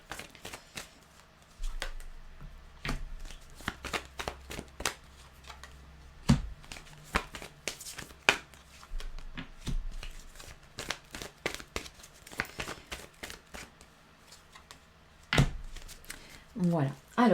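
Tarot cards are shuffled and drawn for a five-card cross spread, heard as repeated crisp riffling snaps and soft slaps at irregular intervals, close and clear, with someone speaking quietly between them.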